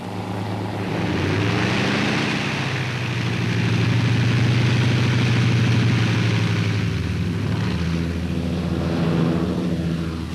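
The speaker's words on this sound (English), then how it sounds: "the transports take off shortly before complete darkness." C-47 transport planes take off at dusk, their piston propeller engines building into a loud, steady droning roar that swells and then eases slightly, with no talking.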